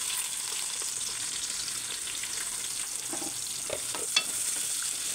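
Onions frying in hot oil in a pan, a continuous soft crackling sizzle with occasional light stirring clinks, close and fairly quiet, with no voices.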